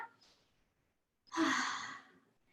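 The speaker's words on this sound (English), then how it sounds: "Take a deep breath in here." During a Pilates neck stretch, a faint lead-in breath is followed by a slow, deep, audible breath drawn in close to the microphone, which swells and then fades over about a second.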